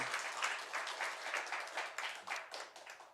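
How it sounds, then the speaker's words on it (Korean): Congregation applause at a Sunday church service, steady rhythmic clapping from a crowd heard at a distance and fairly faint, lasting about three seconds with no talking over it. "우리 하나님께 영광의 박수 올려드리겠습니다"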